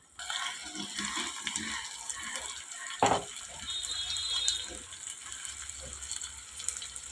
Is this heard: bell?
no